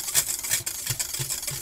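Whisking chipped beef gravy to break up lumps gives quick, rhythmic swishing and light clicks of the whisk in the pan, a few strokes close by and fairly quiet, with no talking.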